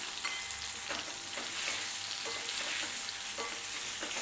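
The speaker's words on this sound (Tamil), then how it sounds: "இதில் இப்போ அந்த கொய்யாக்காயை போட்டுடலாம் ஒரு டூ மினிட்ஸ் வதங்கினா போகிறோம்" Pieces of guava sautéing with garlic in hot oil in a pan, a steady close sizzle and fry with occasional stirring scrapes, continuous and fairly loud, no voices.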